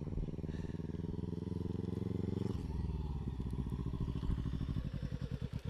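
A motorbike ridden in first gear by a learner rider produces a steady, close engine drone with a low, pulsing exhaust. The sound shifts partway through into a choppier, throbbing rhythm that persists to the end.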